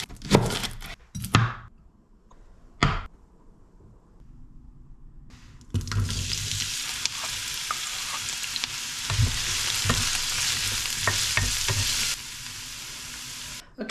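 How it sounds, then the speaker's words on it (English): Onion and garlic sizzle steadily in a hot pan after a few knocks and clatters, the frying noise loud and continuous with occasional stirring scrapes. "start chopping some onion, etc, and garlic before we start frying it"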